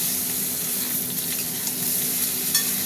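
Eggplant and potato pieces hit hot oil with cumin, giving a steady, close sizzle and crackle with faint stirring scrapes, loud and unbroken throughout.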